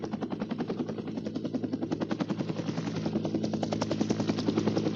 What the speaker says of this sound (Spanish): debían de volar 2 helicópteros